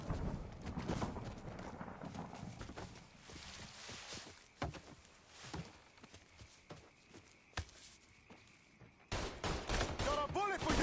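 Scattered gunshots and short volleys ring out in Mafia III combat, crackling at varied distances amid game chatter and shouted voices, with a sharp burst near the end.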